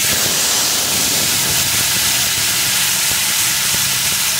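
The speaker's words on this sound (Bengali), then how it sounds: "এখন যে তরকারিটা নামিয়ে রেখেছিলাম ওই তরকারিটা প্রথমে চামচে করে একটু দিয়ে দেবো, তাহলে আর ছিটবে না।" Spoonfuls of cooked curry with taro and shrimp going into hot tempering oil in a kitchen pan, a loud, steady broadband sizzle and hiss that holds without a break.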